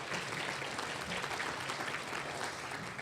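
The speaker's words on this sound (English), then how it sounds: "Give yourselves a round of applause, please." Audience applause at an inclusion conference, a dense, even roar of many hands clapping at once, steady and fairly faint throughout.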